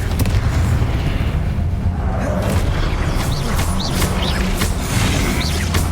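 Confringo blast spells going off in Hogwarts Legacy, heavy continuous booming and crashing layered with dense game sound effects throughout.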